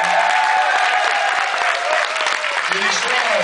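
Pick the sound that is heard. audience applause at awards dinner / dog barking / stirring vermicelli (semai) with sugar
audience applause at awards dinner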